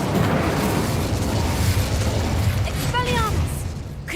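Fiery Incendio spell blast cast in Hogwarts Legacy, a sustained roaring burst of flame with a rumbling low end, loud and close, followed by a brief magical chime near the end.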